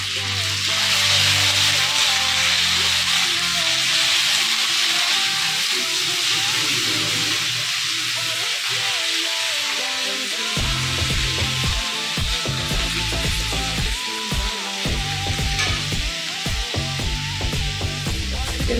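Garlic paste and then onion paste fry in hot oil, giving a loud, continuous sizzling hiss that flares louder as the second paste goes in, with tonal kitchen hum and clatter underneath.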